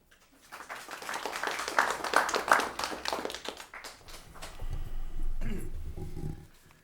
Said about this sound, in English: Please give a round of applause for Mr. Ressler.